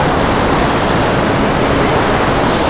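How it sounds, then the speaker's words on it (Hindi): Fast-flowing mountain water rushing into a river on the Kedarnath trek, heard from a bridge as a loud, dense, unbroken roar filling the whole clip. "यहाँ ऊपर से पानी आ रहा है और ये सीधा नदी में जाके मिल जाता है यार"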